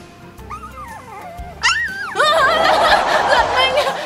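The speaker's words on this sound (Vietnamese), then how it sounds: "Thấy bạn cún kêu" A young stray puppy cries in a series of high, wavering whines and yelps that grow louder and more insistent, heard close with some background noise behind it.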